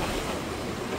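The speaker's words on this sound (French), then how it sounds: "Ça secoue avec les vagues" Waves slap and wash against a small boat rocking near rocks along the shore, a steady dense rush of water and wind close to the microphone for about a second.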